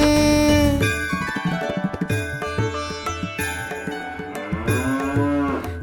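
A cow moos in a Tamil children's rhyme about a cow decorated for Govardhan Puja, with long drawn-out calls blended into a bright musical backing and no talk.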